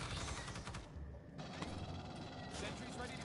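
Rapid, continuous automatic fire from a sentry gun in the Alien video game, a dense unbroken chatter of shots for a few seconds, loud and close amid game noise.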